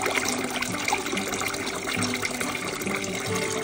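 Molten beeswax runs out of a tap spout in a steady, close trickling stream, a continuous liquid pour with no voices.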